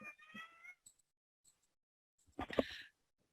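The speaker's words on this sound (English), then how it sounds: "my cat's crying in the background" A cat meows in the background of a quiet online meeting, with a short faint cry early on and a louder, drawn-out wail near the end.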